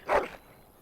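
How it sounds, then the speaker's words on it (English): Dog in the video game Dragon Age Origins gives a single short, bright bark up close, fading quickly into quiet. "Happy bark."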